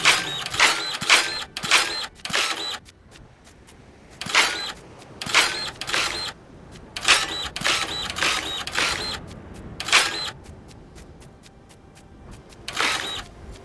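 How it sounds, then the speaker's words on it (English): A dirt printer machine running in the video game Dinkum, giving bursts of sharp clicking, clattering mechanical beats in clustered groups with short quiet gaps, fairly close and loud. "Lilo's saying she likes the noise of the dirt printer."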